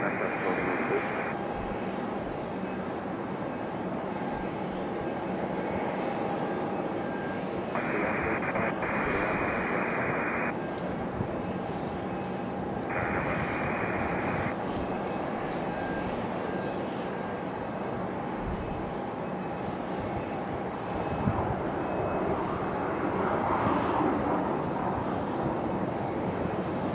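Aircraft taxiing at Raleigh Durham International Airport, a steady distant jet engine drone with a faint radio tone and wind, the rumble swelling slightly near the end.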